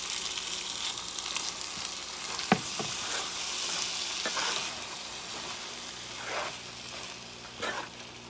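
Corned beef simmering with tomato sauce in a pan for Puerto Rican carne bif con pasta gives a soft, steady hiss and sizzle, with a few sharp spoon clinks and stirring sounds close by.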